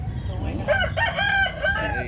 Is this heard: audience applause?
no